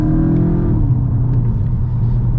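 A 2021 VW Golf Mk8 GTI accelerates hard on a UK back road, its engine note loud and close, rising in pitch and then easing as the revs settle.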